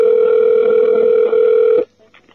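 A telephone ringback tone on a call to the Latvian State Social Insurance Agency information line sounds as a single steady electronic beep, loud and continuous for nearly two seconds before stopping.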